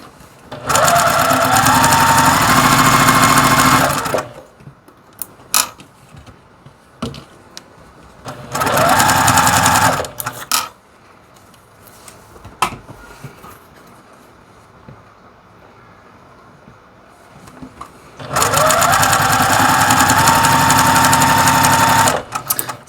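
A sewing machine stitches plain white sashing onto quilt blocks in three loud, steady whirring bursts of several seconds each, separated by quieter handling noises and pauses.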